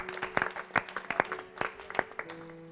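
A congregation applauds at a church gathering, with scattered sharp claps of uneven rhythm near the microphone over a low, steady hum.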